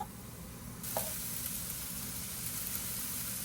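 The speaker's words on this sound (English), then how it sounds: "Go ahead and saute those vegetables." Vegetables sautéing in a hot pan for creamy chicken pasta, a steady broadband sizzle that swells slightly about a second in and holds loud and close, with no voices.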